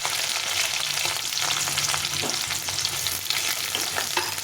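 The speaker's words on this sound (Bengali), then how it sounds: "পেঁয়াজ রসুনটা একটু ভেজে নেবো" Crushed garlic and onion fry in hot oil for fried rice made from leftover rice, a dense crackling sizzle broken by repeated scraping stirs of a spatula against the pan.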